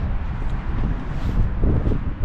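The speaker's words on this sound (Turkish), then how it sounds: "Rüzgar beni bile uçurur." Strong gusty wind on a seashore roaring and buffeting the microphone, a continuous loud rumble with no voices.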